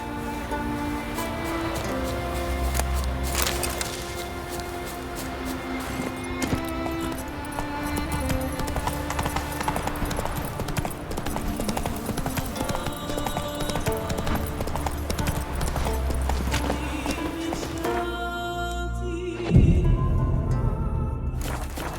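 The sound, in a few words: horse Roach galloping in video game The Witcher 3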